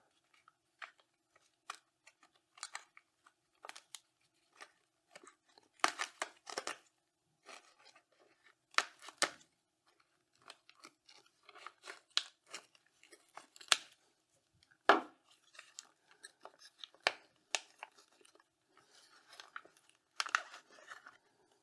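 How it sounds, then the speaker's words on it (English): Scissors snipping through a thin plastic orchid pot to free the plant: a string of irregular crisp cuts and crunchy crackles, close and fairly quiet. "If that doesn't work, we're going to have to cut this pot off."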